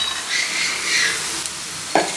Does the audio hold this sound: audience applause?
no